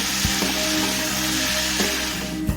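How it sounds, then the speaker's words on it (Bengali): Chicken fried with spices and sauce in a pan for dry chili chicken, a loud continuous sizzle with several sharp spatula knocks and scrapes against the pan, close up and with no talking. "ভালো করে একটু মশলার সঙ্গে সসের সঙ্গে ফ্রাই করে নিয়েছি।"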